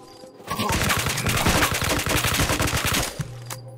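Rapid bursts of automatic gunfire in STALKER: Shadow of Chernobyl, a dense, steady stream of shots lasting about three seconds before cutting off, loud and close, with no talking.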